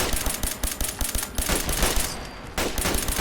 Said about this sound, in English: They're shooting at me with something.